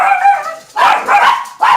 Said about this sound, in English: Every dog in the house is barking.